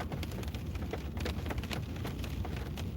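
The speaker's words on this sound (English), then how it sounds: "sitting watching the rain" Rain patters steadily during an ice fishing outing, a close, continuous spatter of drops on a surface, moderately quiet and with no talk.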